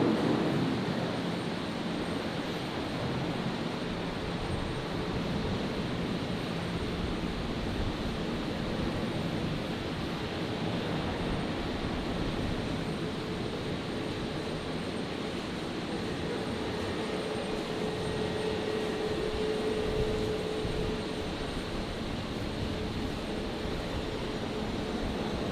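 A QantasLink Embraer jet bound for Adelaide accelerates for takeoff on runway 19 left at Brisbane Airport at night, a steady, distant engine roar holding evenly throughout with a faint high whine, no voices.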